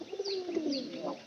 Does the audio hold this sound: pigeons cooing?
yes